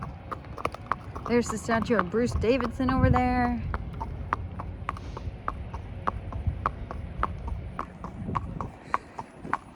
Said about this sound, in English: Here's Hobo just hacking around the Kentucky Horse Park.